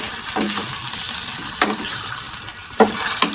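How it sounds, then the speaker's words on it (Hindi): Chicken pieces frying in hot oil in a pan, a steady close sizzle broken by a few sharp clinks of a spoon stirring against the pan. "अब हम इसमें जो है ये और चिकन डाल के फ्राई करना शुरू करेंगे इसको"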